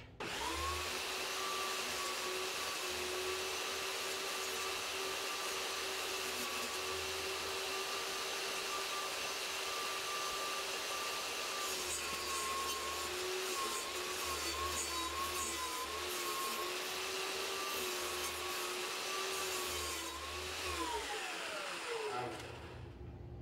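Table saw running steadily as a board is fed through for a home-built craps table, a loud continuous motor whine with a sustained tone under the cut, then spinning down near the end.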